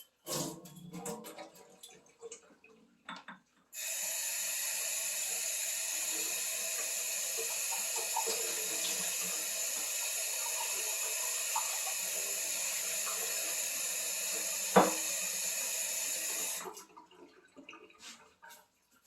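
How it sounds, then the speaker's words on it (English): Bean seeds for microgreens get rinsed under a water tap, a steady hiss of running water that starts suddenly, carries on for about thirteen seconds and then stops, with faint handling noises before and after. "Now, rinse your beans."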